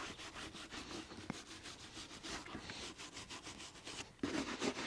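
A soft brass brush scrubs sand and grit out of the stitched welt of a leather boot in quick, rhythmic back-and-forth strokes, close and fairly faint, with a sharper scrape near the end.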